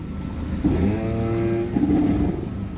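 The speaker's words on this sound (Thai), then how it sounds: "ใกล้ๆจะหยุด เสียงดังสะท้านปื้อขึ้นมาเลยนะ" A car's ABS chatters and shudders as the car brakes near a stop, a fault showing as a rapid buzzing pulse over engine and road noise, heard twice in quick succession.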